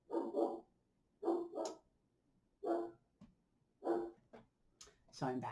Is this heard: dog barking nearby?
yes